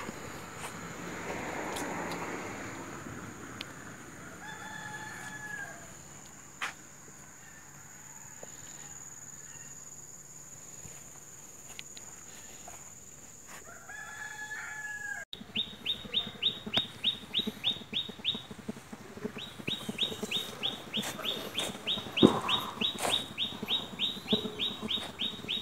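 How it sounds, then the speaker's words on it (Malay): Loud bird calls at a rural village on a Malaysian patrol route. At first a few scattered calls sound over a hushed background. Then a rapid, repeated chirping series starts and continues nearly nonstop, close and fairly loud. "Kuat bunyi burung."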